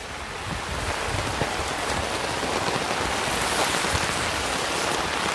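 Steady heavy rain from a storm pours down in a dense, continuous hiss with scattered drop impacts, no voices, close and unbroken throughout.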